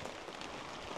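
Steady rain falls on a mountain village of the Nung people at dusk, a soft continuous hiss of drops on surfaces with no voices, even and unbroken throughout.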